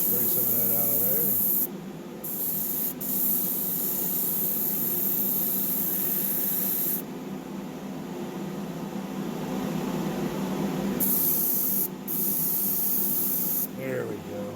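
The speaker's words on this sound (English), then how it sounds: "Spray some of that out of there" Aerosol spray paint hisses in bursts across a small Matchbox Ford Corsair die-cast model, steady close hiss with short pauses between passes, light talk at the edges.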